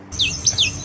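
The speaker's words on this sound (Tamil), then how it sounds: "டைலர் பேர்ட் தையல் சிட்டு" Repeated high chirping bird call of a tailorbird, two or three quick downward-sweeping notes in close succession, clear and fairly loud against a soft low background, with no talk.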